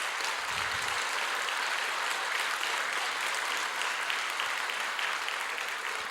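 Church congregation applauding an elder during a Korean worship service, a steady dense clapping that fills the room from start to finish with no talking over it.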